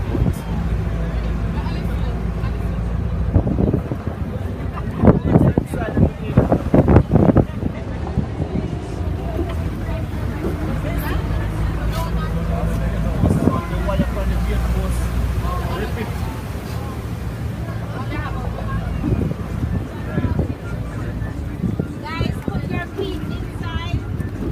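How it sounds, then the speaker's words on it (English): Tractor ride along a bumpy country road near YS Falls in St. Elizabeth, Jamaica, with a steady engine rumble and wind buffeting, jolts and rattles scattered throughout, and voices talking over the noise. "this is what our country tractor ride look like. So don't feel no way if it bumpy,"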